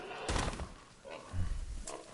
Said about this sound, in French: Un sanglier.